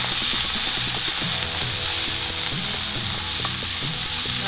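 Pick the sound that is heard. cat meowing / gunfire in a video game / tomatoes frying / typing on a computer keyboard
tomatoes frying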